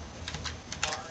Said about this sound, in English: you may have to type in an IP address.